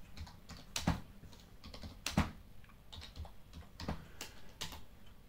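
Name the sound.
typing text on a computer keyboard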